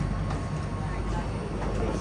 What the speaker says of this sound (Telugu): స్కై ట్రైన్ ఎక్కాను సింగపూర్లో.